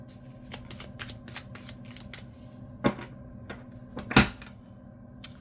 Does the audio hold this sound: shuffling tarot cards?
yes